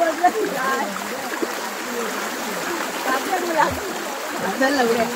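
A swollen stream runs after heavy rain in the Konkan countryside, its broadband rushing and splashing water steady throughout, with people talking over it.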